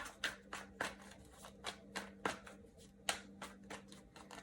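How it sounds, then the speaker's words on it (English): A deck of tarot cards is shuffled by hand up close, the quick riffles and taps coming in a steady, irregular patter with no one talking. "Let me just shuffle a little bit more."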